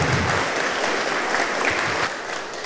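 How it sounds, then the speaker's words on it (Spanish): A crowd applauds the governor at a town visit, dense continuous clapping from many hands, loud and close, lasting a few seconds with a faint voice underneath. "un fuerte aplauso al señor gobernador"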